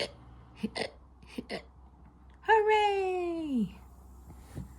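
A voice imitates hiccups while reading aloud a children's story about a skeleton: a few short, sharp hiccup yelps, then a longer sliding vocal hiccup that drops in pitch, heard close and clear in a quiet room.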